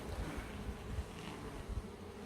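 Honey bees hum and buzz steadily around an open hive during frame inspection, a close, dense drone with faint irregular bumps and no talking.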